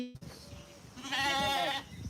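Goats bleat at a Punjabi livestock market, one loud, wavering bleat rising close by for nearly a second over a busy background murmur.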